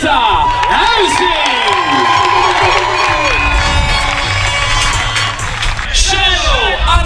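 A crowd cheers and whoops with applause at a live stage event as performers are announced, with loud shouting and excited voices rising over steady clapping throughout.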